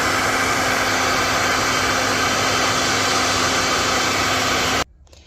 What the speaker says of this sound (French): j'utilise un sèche-cheveux de base